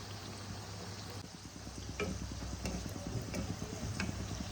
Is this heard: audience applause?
no